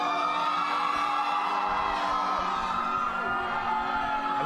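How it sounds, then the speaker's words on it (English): A loud crowd at a Raas All Stars dance show cheers and whoops continuously over music. "This is probably the loudest crowd I've seen."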